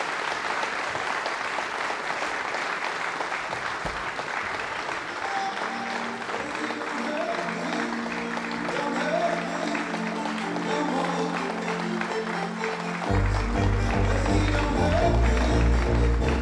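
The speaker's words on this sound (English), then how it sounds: "a big round of applause to the UK champion" A snooker crowd applauds the reigning UK champion Ronnie O'Sullivan in a long, sustained round of clapping, and a music track swells in beneath the applause partway through and grows louder near the end.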